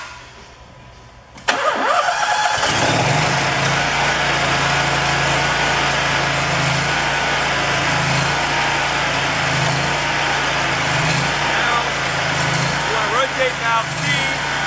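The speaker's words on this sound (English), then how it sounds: "next step we need to do is start our engine and also turn on the main pressure valve" A Gap Power sewer jetter engine cranks and starts abruptly after a quiet moment, then settles into a loud, steady idle with a throbbing pulse.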